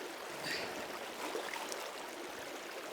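Gravel being swirled in a pan of cold creek water gives a soft, quiet sloshing and trickling with small splashes, heard up close and steady, with no talking.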